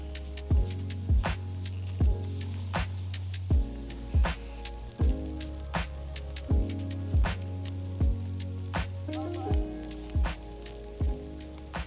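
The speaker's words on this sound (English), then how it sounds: "The sounds of the rain and the crackling fire are awesome" DayZ video game ambience: steady rain patter mixed with crackling fire pops, over a low droning hum with regular soft thuds recurring roughly every second.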